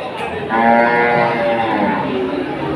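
Pregnant cows at the Wirosari cattle market in Grobogan, Central Java, give a long, loud, low moo close by, with market background noise around it.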